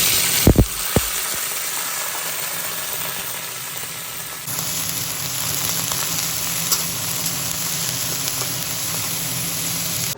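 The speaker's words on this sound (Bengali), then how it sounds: "চলো, এদিকে পাঁপড়ও ভাজা হয়ে গেছে।" Papad frying in hot oil in a home kitchen, a steady broadband sizzle running throughout, with a couple of sharp clatters near the start and a brief shift in the hiss partway through.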